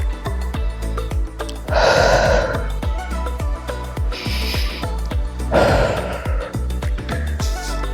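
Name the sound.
breathing in through the nose and out the mouth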